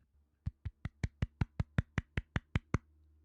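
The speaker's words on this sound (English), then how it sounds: "That is the official golf clap of Sports Corner" Golf clap: a single person's slow, polite hand claps, about thirteen even, crisp claps in a steady rhythm, close and fairly quiet, over a faint low hum.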